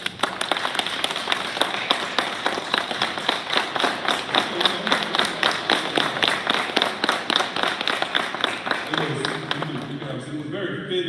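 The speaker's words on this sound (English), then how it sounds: "Stand up, give him a round of applause." A graduation audience stands and gives a round of applause: dense, sustained clapping with a steady pulsing rhythm, continuing for about eleven seconds before thinning out at the end.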